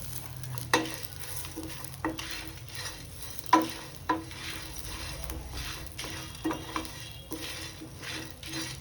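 Curry leaves fry with black pepper in a pan under a soft, steady sizzle, broken by occasional sharp spoon clinks and stirring scrapes against the metal.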